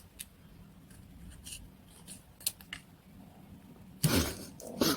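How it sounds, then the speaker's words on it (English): Scissors snipping the corners off paper for junk journal paperclip embellishments, with faint rustles and small clicks followed by a louder, close cut near the end, in a quiet room with no speech. "And then you can cut your corners off."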